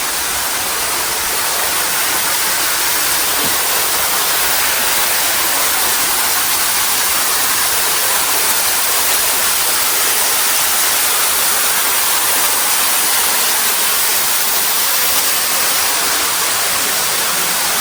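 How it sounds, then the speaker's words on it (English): A constant, loud, hissing roar of a waterfall in Yucatán, Mexico, close and unbroken throughout, with no voices. "you get to this pretty waterfall here, and as you can see, the water is just beautiful"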